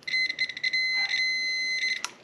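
Shrill electronic beeps from a multimeter's continuity tester, several quick chirps followed by a sustained tone, then more short beeps, loud and close.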